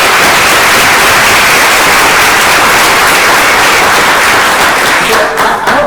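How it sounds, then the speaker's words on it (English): Loud, sustained audience applause fills a conference room at a Women in the Law event, dense continuous clapping from a large crowd that holds steady for several seconds before thinning slightly at the end. "Let's start by giving Margie and Cleo another round of applause."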